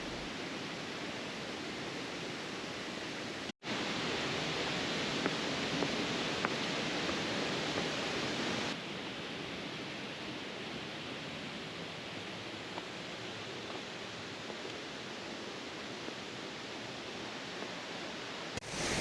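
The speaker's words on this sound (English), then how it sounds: "I love waterfalls." A waterfall at Kawazu in Japan during the early cherry blossom season, a steady dense roar of falling water, broad and constant, with a brief cut and a slight drop in level partway through.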